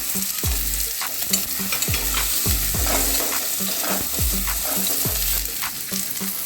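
Dried chili, panch phoron, chopped garlic and onion fry in hot oil with a loud, continuous sizzle, while rhythmic spatula strokes knock and scrape against the pan close by.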